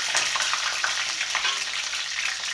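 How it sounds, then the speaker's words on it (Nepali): Red chilies frying in hot oil in a pan for a chicken curry, a steady close sizzle with crackling spatters throughout and no talking. "अब खुर्सानी हाल्ने हो र खुर्सानीलाई ब्राउन नहुनेजेलसम्म"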